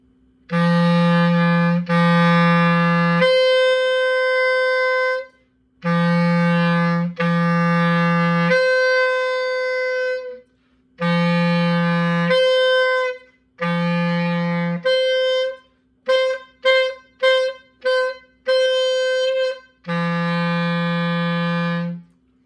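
A clarinet plays high-register notes, including high D using the register key, sustained and short detached in alternating groups, a quick staccato run in the middle, with pauses between phrases.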